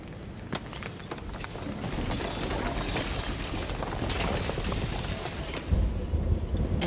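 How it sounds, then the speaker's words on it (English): A shattering sound effect from a video game: a dense, loud crackling and crumbling wash that builds steadily, with scattered sharp cracks and a heavier rumble near the end. "And then the shattering."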